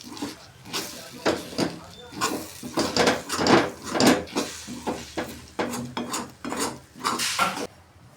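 Egg bhurji being mixed with chopped coriander in a pan, with irregular clinks and scrapes of a spoon against the metal, close and moderately loud, while someone talks.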